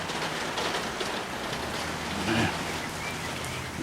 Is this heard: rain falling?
yes